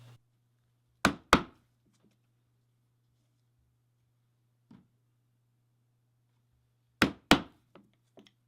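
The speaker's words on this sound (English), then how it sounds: "So we're just going to punch this and sew it." Punching stitch holes in a leather bag during repair, sharp close thumps in pairs with long quiet gaps between strikes and a faint low hum underneath.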